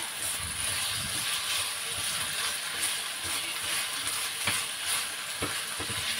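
Potatoes fry with a steady, bright sizzle in a pan over medium heat, with the soft scrapes and occasional knocks of a utensil stirring them throughout.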